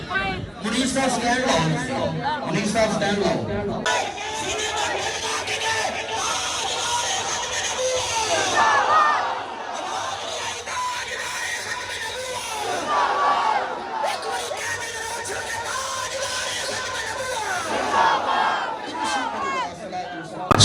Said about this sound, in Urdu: لوگوں کا رش اور ہجوم آپ دیکھ سکتے ہیں. سب ان سے ہاتھ ملانے کی کوشش کر رہے ہیں